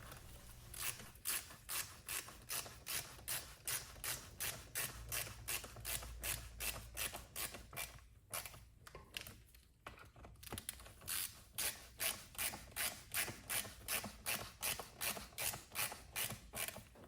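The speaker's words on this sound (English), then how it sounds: "Now I'm attaching both of these Torx bolts. And tightening these down." A ratchet tightening Torx bolts on a weed eater, with steady rhythmic clicking strokes repeated close up, a short pause midway, then more even clicking.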